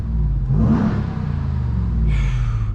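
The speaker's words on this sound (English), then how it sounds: "You already hear the V8." The V8 engine of a 2021 Ram 1500 TRX rumbles deeply and swells into a rev, then settles to a steady idle growl, close and loud.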